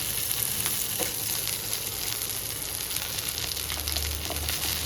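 Ingredients dropped into hot oil in a pan for a spicy tomato and green chilli thecha sizzle loudly and continuously, a dense crackling hiss close by with no pauses.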